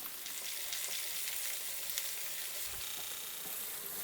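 Garlic, green chilli and onion frying in a pan for a white ash gourd kootu, a steady close sizzle with occasional stirring scrapes throughout, no talk.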